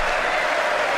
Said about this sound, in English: Pelosi claps.